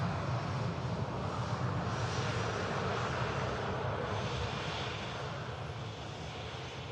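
A Saudia airliner in a special livery arrives at Manchester Airport, its engines a broad, steady roar that holds throughout and eases slightly toward the end.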